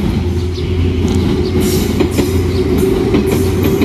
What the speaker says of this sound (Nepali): अझ ठुलो ट्रेन आयो